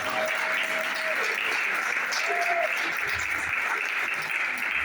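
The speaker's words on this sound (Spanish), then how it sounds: "Vamos a darle un fuerte aplauso a todos los visitas." A church congregation claps steadily in sustained applause for visitors during a sermon, with a faint voice or tone briefly audible underneath.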